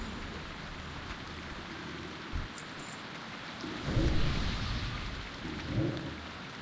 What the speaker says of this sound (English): Ooh, this downpour is loud.